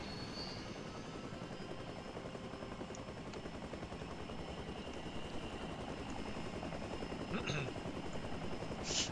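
A helicopter from the survival video game The Front drones steadily throughout, with a few sharp gunfire-like bursts late on, all fairly quiet in a game mix.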